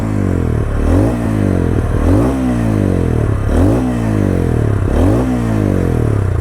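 A TVS Ronin Agonda Edition single-cylinder motorcycle engine revs repeatedly, its exhaust note rising and falling in rhythmic surges over a steady thumping idle, loud and close.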